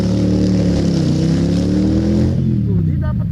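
A V-twin motorcycle engine on a test ride, revved hard in second gear after a shift: a loud, deep throbbing drone that rises in pitch, then eases off as a voice speaks over it.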